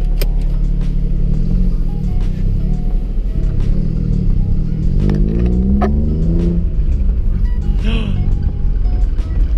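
A Nissan 350Z's modified exhaust rumbles loudly and revs up and down continuously, with occasional sharp pops and crackles on top.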